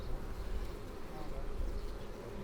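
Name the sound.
honeybee colony buzzing loudly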